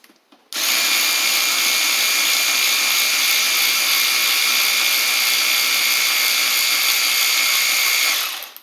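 Eastvolt 3/8-inch cordless ratchet wrench loosening a fastener, starting abruptly and running as a steady, loud high-pitched motor whine for about eight seconds before cutting off.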